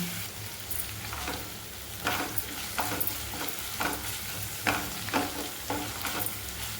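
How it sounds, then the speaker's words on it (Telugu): Ginger garlic paste fries in a pan for paneer kaju masala curry, a dense steady sizzle broken by rhythmic scraping stirs from a spatula, close and fairly loud with no voices. "అల్లం ఎల్లిపాయ పేస్ట్ వేగిపోయిందండి."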